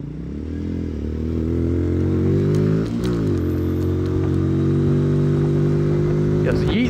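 A Lexmoto ZSX-R EFI motorcycle engine hums loudly and close as the bike pulls away, its pitch rising and dipping with a gear change midway, while someone talks over it.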